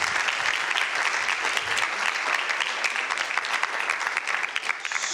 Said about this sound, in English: give us a round of applause for everyone